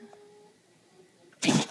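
A single sharp, snorting dog sneeze bursts out near the end after a quiet pause, short and close.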